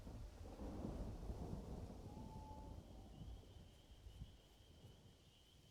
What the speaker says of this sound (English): Big old storm coming.